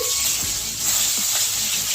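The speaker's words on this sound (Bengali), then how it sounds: "মাছের মাথা ফাটবে তো, ওই জন্য ঢাকা দিয়ে দিচ্ছি।" Fish heads fry in smoking hot oil in a pan, giving a steady, close hiss and sizzle with faint pops and no talking.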